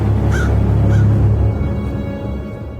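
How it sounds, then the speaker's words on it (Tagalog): Crows cawing far off in a rural village setting, a couple of harsh calls in the first second over a steady low rumble of background noise. "At mula sa malayo, narinig ko ang huni ng mga uwak."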